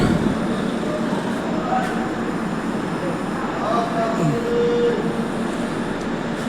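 A late-running train at Urai railway station in India sounds as a continuous, loud rumble of wheels and carriages. Faint squeals and clanks rise now and then over the steady roar.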